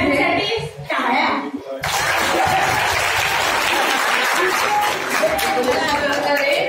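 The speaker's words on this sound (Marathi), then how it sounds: "सगळ्यांसाठी टाळ्या" Audience at a devotional antakshari contest breaks into loud, sustained applause after a brief lull, a dense wash of clapping from a crowd with some voices and laughter mixed in.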